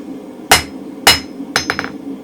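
Blacksmith's hammer striking hot steel on an anvil while forging a round punch's short blunt taper: two sharp, loud ringing blows about half a second apart, then a quick cluster of lighter bouncing taps.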